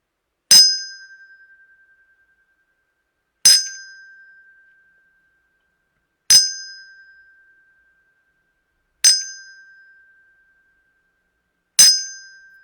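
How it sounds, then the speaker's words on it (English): Five evenly spaced bell strikes from the Big Ben clock tower in London, each a bright clang that rings on and fades before the next, heard alone against silence. "We heard 5 chimes of Big Ben."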